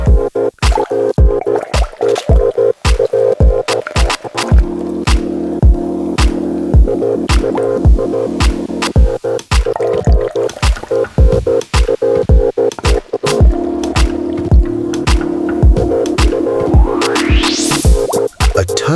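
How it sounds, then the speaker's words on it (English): Sparkling lemon water poured into a glass for an elderflower Collins mocktail: a steady run of crisp fizzing pops and drips, with the pitch of the pour rising as the glass fills near the end, and no voices. "Sparkling lemon water, crisp, bubbly, and incredibly refreshing."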